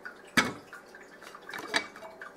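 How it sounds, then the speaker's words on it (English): Water is dribbled across the threads of a bottle lid, giving a few sharp splashy drips and trickles, two distinct spatters with softer patters between, close and fairly quiet. "dribble water across your threads"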